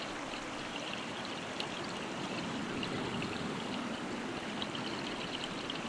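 Shallow stream flowing over small pebbles and sand, a steady continuous rushing and trickling wash with no pauses.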